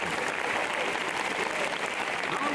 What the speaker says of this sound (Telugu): నిలబడి ముగ్గురికి చప్పట్లు కొట్టండి ఒకసారి.